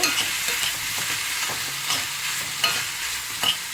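Tomatoes sautéing in a pan for an aloo tomato curry, a steady close sizzle of frying with repeated scraping stirs of a spoon, no talk.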